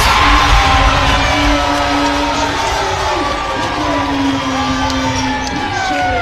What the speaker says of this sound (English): Listen to the home crowd here at the Rice Center.